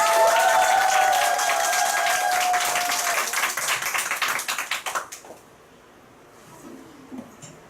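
An audience bursts into loud, dense applause with a few cheers, then the clapping thins into scattered individual claps and stops abruptly, leaving quiet room noise.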